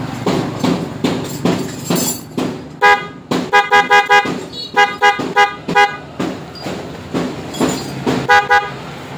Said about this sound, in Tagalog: So ito yung kakabit, papalit nating horn.